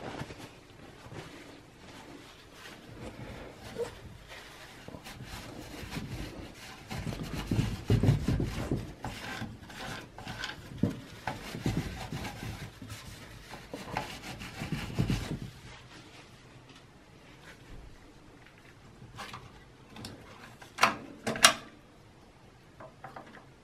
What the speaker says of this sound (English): take a paper towel and wipe down the old thermal compound from the CPU